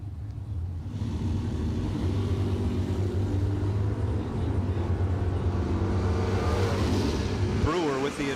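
Bracket race cars launching side by side at a drag strip, a Mustang in the right lane, with a loud, steady engine roar and rising revs near the end while a commentator talks over it.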